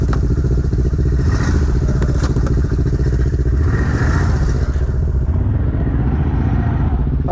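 An ODES 1000 quad engine runs loud and close throughout, a steady low rumble with rough clattering texture, the note shifting slightly as the machine rides off.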